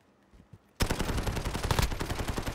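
Light machine gun in Call of Duty: Modern Warfare opens up after a brief quiet moment, firing one long, loud, rapid sustained burst of dense cracking shots that runs to the end.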